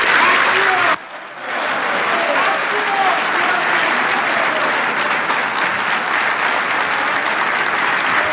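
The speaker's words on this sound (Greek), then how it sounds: "Χειροκροτούμενος λοιπόν ο κύριος Καραμανλής ολοκλήρωσε την ανάγνωση της πρώτης δήλωσής του ως αρχηγός της πλειοψηφίας" A large crowd at the Zappeion applauds Kostas Karamanlis after his 2004 speech, sustained dense clapping that starts abruptly and continues steadily and loudly throughout, with no speech over it.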